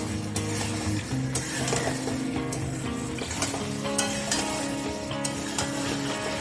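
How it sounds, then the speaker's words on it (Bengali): Boiled potatoes fry in a pan while being stirred, giving a steady close sizzle broken by repeated scraping and clinking of a spatula against the pan over a low hum. "পাশাপাশি এখানে আলুটাও ভেজে নিচ্ছি।"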